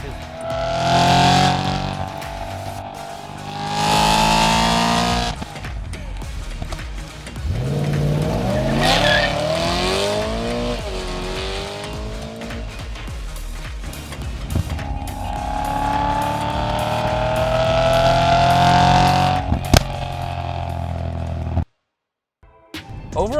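A stock BMW E92 M3 is driven hard, its engine revving up and down in rising, falling sweeps with tyre squeal between, loud and close, then a brief drop to silence near the end.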